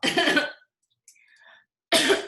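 Two loud, harsh coughs close by, separated by a short quiet pause.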